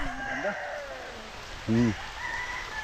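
Stag roosters on a farm, with a short, fairly close crow and other faint bird calls, while people talk quietly nearby.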